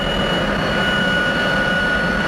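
A Lockheed T-33 jet engine roars steadily and loudly while running on the ground before shutdown, a dense, unbroken broadband rush with a high whine on top.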